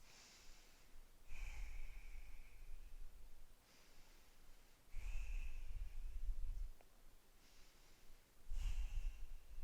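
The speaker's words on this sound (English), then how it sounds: "Take 3 breaths." Deep, audible breathing while holding a Warrior 2 yoga pose: three slow, breathy exhales come at even intervals, each followed by quiet inhaling, close and fairly soft with no talking.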